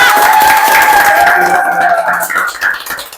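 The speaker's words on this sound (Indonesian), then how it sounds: "Tepuk tangan dulu dong buat bintang tamu kita" An audience in a podcast studio applauds a guest, giving a loud, continuous wash of clapping with cheering and a high sustained whistle-like tone over it.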